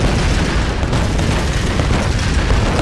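Explosions rumble in Tomb Raider (2013) during a frantic escape sequence, a continuous, loud roar of blasts and debris with no clear gaps, filling the whole stretch.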